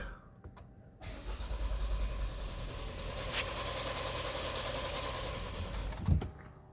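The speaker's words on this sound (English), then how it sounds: "I'm gonna open the window so you guys can hear it, and I'm gonna try to crank." A 2023 Lexus RX350 engine cranks steadily for several seconds without catching, held by an anti-theft immobilizer, then cuts off abruptly, heard from inside the vehicle.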